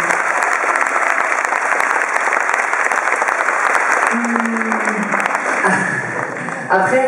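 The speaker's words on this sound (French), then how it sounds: "donc pour Magali, on peut applaudir très fort." Loud, sustained applause fills a concert hall, steady and dense, with a voice and some musical tones rising near the end.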